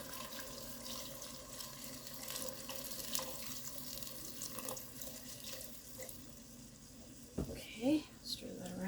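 Beef broth pours over beef in a Dutch oven for beef and noodles, a steady close liquid pour running for several seconds before a few clunks and splashes near the end.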